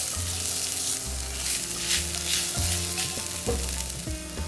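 Chili powder stirred into soya chunk tikka masala curry frying in a pan: a steady, loud sizzle with repeated scraping strokes of the spoon, no voices.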